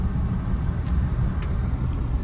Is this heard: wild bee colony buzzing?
no